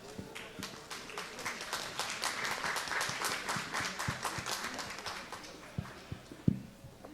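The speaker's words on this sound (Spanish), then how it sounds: "vamos a recibir a los integrantes con un muy fuerte aplauso" Sustained audience applause at a climate finance panel session in Peru, a dense, steady wash of many hands clapping that thins toward the end into a few scattered claps.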